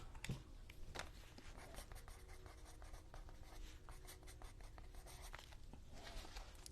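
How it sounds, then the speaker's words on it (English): Pen scratching across paper while a label is written onto a page, a soft continuous scribbling with small strokes, close and quiet with no talking. "So I'm just going to write fabric flip on here."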